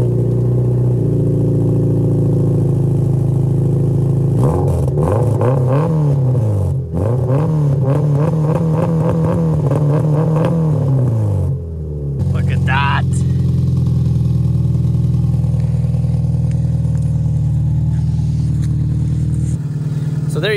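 A modified car engine is cranked, catches after a brief stutter, then idles loudly with a rough throb before being revved in rising and falling bursts, close by, with a short pause and restart midway and talk over it.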